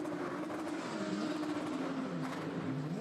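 A Corvette GT race car pulls out of pit lane at Oschersleben, its engine note climbing through gears in a steady accelerating rise, fairly close and loud against track ambience.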